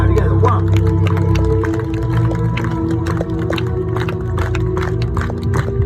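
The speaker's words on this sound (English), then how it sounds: "I want to hear how loud you guys are going to clap for me here." A crowd at a street show in Blackpool claps in unison, a steady run of rhythmic hand claps mixed with cheering and crowd noise, with a voice heard over it.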